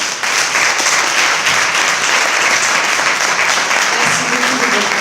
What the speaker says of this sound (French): applaudissez-vous, parce que vous le méritez.